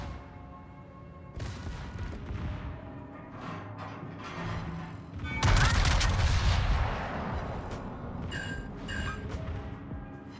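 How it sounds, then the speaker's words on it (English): Secondary guns of a warship firing in World of Warships: repeated booming gun reports and rumbling blasts, with a heavier, louder barrage midway and sharper cracks toward the end, all amid steady game background noise. "So I'm going to activate my secondaries and have my secondary shoot"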